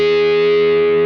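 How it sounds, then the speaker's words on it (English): A sustained, distorted guitar tone through a Blackstar AMPED 2 with shimmer delay, a bright, shimmering upper layer ringing steadily, loud and close, with no talking. "So you get this nice shimmer over the top of what you're playing."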